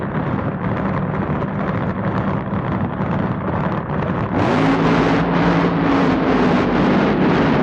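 Two 1975 nitro funny cars, Don Prudhomme's and Raymond Beadle's, launch at a drag strip: a loud, roaring engine blast that swells sharply midway and holds with a harsh, pulsing thunder.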